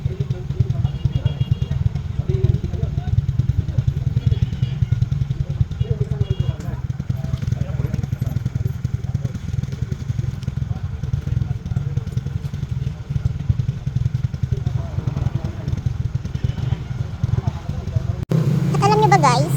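Motorcycles rumble steadily along a road in a continuous close, low engine drone with wind buffeting, ending with a brief louder burst of noise.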